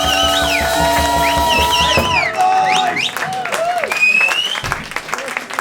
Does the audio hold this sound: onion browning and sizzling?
no